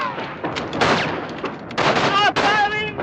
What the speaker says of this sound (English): Stop firing!